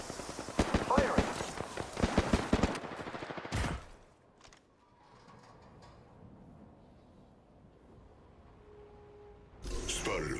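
Automatic gunfire in the Apex Legends video game, rapid bursts of shots close up for the first few seconds, then a quieter stretch of game ambience before another loud burst at the end.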